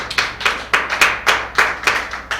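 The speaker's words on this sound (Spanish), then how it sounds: "¿Cuánto pueden dar un aplauso a Cristo?" A small church congregation claps in a steady, evenly spaced rhythm of sharp, close hand claps, with no voices over them.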